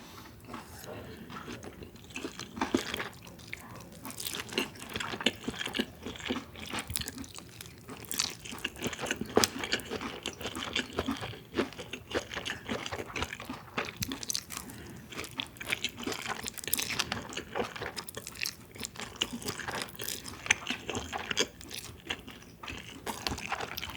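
Kimchi and pork belly with spicy mixed noodles are chewed close to the mic, producing wet crunching and smacking bites in a steady irregular rhythm, with a murmured voice now and then.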